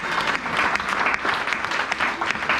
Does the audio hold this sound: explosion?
no